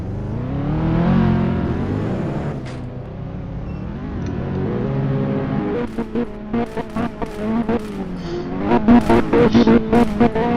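A stolen Porsche in the Realistic Car Driving video game drones and whirs with a rising and falling engine note, then gives a string of sharp revving bursts toward the end, loud and close with no talk.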